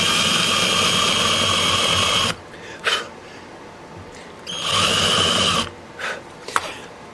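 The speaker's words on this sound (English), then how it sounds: "here's a chamfer tool, and look at the chatter I get." Chamfer tool chattering against a plastic part in a machine shop, two loud harsh buzzing bursts of a couple of seconds each, separated by quieter gaps with brief noises.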